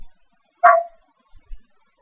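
One loud, close dog bark stands alone in near silence, with a few faint thumps after it and the start of another short sound at the end.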